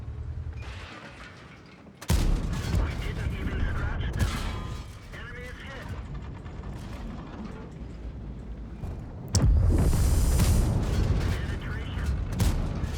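Tank cannon fire and mechanical clatter in World of Tanks, with heavy booming shots that give way to sustained rumbling, grinding tracks and a loud burst near the end, all under a player talking.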